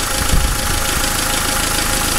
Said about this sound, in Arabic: ساعة تتحرك ساعة تلاقي الموتور قاعد يرتاح، مرة يرتاح مرة يرتاح